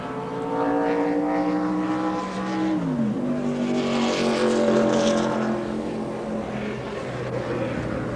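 Stock car engine during NASCAR pit work, a loud sustained harmonic drone whose pitch dips sharply and recovers midway before settling, steady and close with no talk.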